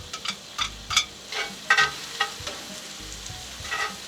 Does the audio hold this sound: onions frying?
yes